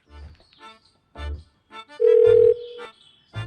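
A phone being dialed to call a gym gives short electronic key tones and a steady dial tone, close by, broken up by a voice speaking between the tones.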